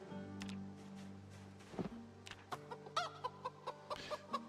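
A hen in the video game Project Zomboid clucks in a series of short, rhythmic bursts over soft, steady game music, with no speech.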